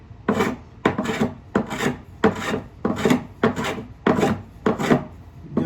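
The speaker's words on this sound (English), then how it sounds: "Always use a plane with a nice shallow cut on it, because you just like finish planing" A hand plane makes shallow finishing cuts along the wooden stock of a Spanish Mauser rifle: about eight rhythmic, rasping strokes, each a close, breathy shave with a short pause between, heard alone without talk.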